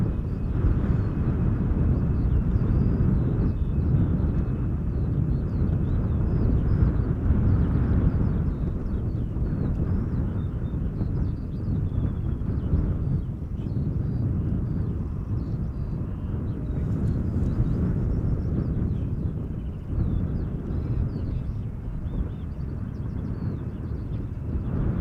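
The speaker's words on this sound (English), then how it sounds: "Coming in next is a 737-800 arriving from Paris-Charles de Gaulle." Boeing 737-800 airliner arriving at Schiphol Airport from Paris-Charles de Gaulle, a steady broad engine roar with wind rumble that holds loud and continuous throughout, with no talk.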